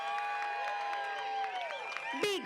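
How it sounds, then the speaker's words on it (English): Applause and crowd noise at a para surfing world championship finals day, filling the air for the gold medal winner during a medal ceremony, steady and moderately distant with tonal music or announcer sound layered over it and a brief louder burst near the end. "Big round of applause, our winner"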